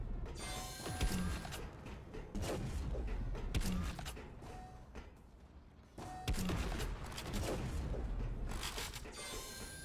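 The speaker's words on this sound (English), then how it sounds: "I actually think I want my grenade launcher for this." A grenade launcher in a video game fires and clanks through a run of sharp mechanical cracks and thumping blasts, with ratcheting reload clicks between shots, close and loud with no speech.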